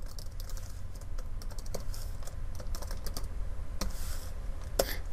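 A computer keyboard clatters with fast, continuous close-up typing as values are entered into a data set, the keystrokes irregular and unbroken by speech.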